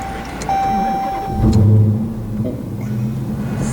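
A 2016 Dodge Challenger Hellcat with a six-speed manual starting up, the starter whirring briefly before the engine catches with a loud, deep rumble and settles into a steady, close idle.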